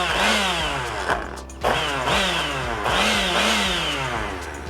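A motorized kitchen appliance blending tomatillos whirs loudly in repeated rising and falling surges, straining as it chops, with a brief dip in the middle.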